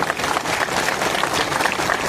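A crowd at a farmers' irrigation protest and road blockade near the Chikkodi bypass applauds in dense, continuous clapping, loud and close, with no voices standing out.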